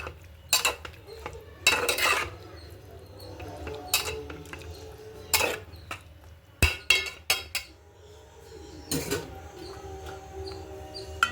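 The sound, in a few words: stirring tamarind tomato curry in a cooking pot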